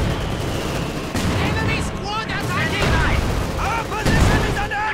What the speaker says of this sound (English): A nice shot here for an incendiary mortar round.